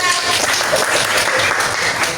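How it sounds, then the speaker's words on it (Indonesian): Applause from a class of students in a school lesson on measurement, a dense, loud, steady patter of many hands filling the whole moment without pause. "betul sekali, tepuk tangan."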